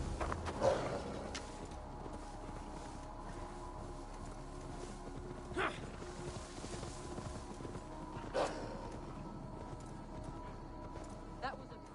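Hooves of a horse being led through a PS4 game world, faint steady clip-clop under ambient sound, with a few louder thumps along the way.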